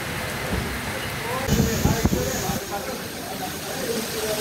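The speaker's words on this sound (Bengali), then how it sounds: "রোদ হচ্ছে, বৃষ্টি হচ্ছে" Rain pours steadily at Maoa ghat, a dense, even hiss throughout with a few clattering knocks and muffled voices in the middle.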